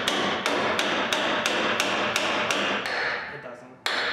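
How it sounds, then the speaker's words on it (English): A pry bar levering a Ford F-series front strut spring assembly into place, giving a regular series of sharp metallic taps, about eight evenly spaced knocks, then a short pause and one final hit, close up with no talking. "we're gonna use our best friend pry bar here to get it in place"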